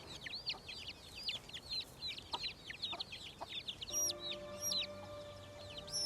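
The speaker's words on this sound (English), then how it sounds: "Connie hears Oliver working on a chicken coop nearby. Are there chicks" Chickens at a coop cluck and chirp in quick repeated calls, fairly close but soft, over a muffled background, with a brief tonal hum joining near the end.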